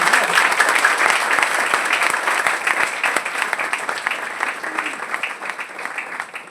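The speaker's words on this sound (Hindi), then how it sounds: "के लिए जोरदार तालियां बजाइए।" Applause fills a hall at an Amway open meeting in Prayagraj, a loud, sustained patter of many hands that slowly thins over about six seconds.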